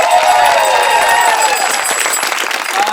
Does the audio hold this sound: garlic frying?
no